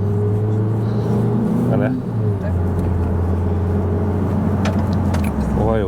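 A car is driven at a steady pace, its engine humming loudly with road noise and a gear-like pitch shift partway through, while people talk inside over the drone.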